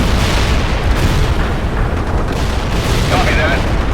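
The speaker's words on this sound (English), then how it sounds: "Artillery here. Firing at coordinates." An artillery strike fires in the World in Conflict war game, a steady, loud rumble of booms and blasts without a break, with brief radio voices over the bombardment.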